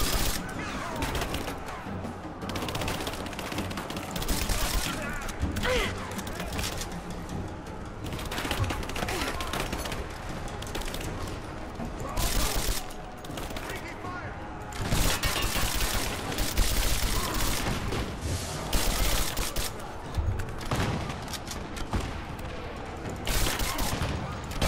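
Enemy Trinity soldiers firing guns in the Rise of the Tomb Raider video game, dense repeated bursts of gunfire with loud rattling volleys spread throughout, amid game ambience.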